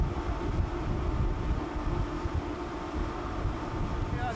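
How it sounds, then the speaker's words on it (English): Engine room of a patrol boat cutter at sea, a constant loud low machinery rumble and drone that holds steady and close for the whole stretch, with no voices. "Yeah, this is our engine room."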